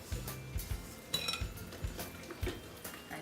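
Bread batter mixed by hand with a spoon in a bowl: quiet, rhythmic scraping thumps and occasional clinks of spoon against bowl, repeated steadily with no talking.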